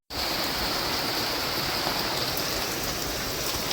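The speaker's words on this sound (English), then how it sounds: "it is officially rain has been started" The first monsoon rain of the season pours down in a village as a dense, even hiss that starts abruptly and stays loud and constant, with no voices.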